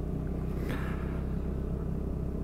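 A Vespa GTS Ace scooter accelerates on snow with its wheels spinning, giving a steady low engine rumble that stays close and even and briefly swells in the middle.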